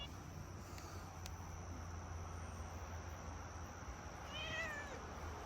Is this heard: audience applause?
no